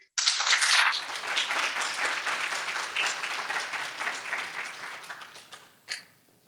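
Sustained applause from a conference audience at the close of a speaker's talk, dense and loud at first, then slowly thinning out, with a single louder clap near the end.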